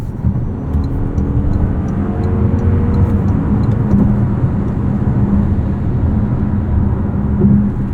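A 2026 Toyota RAV4 GR Sport drives in sport mode, its engine and road noise forming a steady, loud interior drone that builds slightly as it accelerates, with no talking.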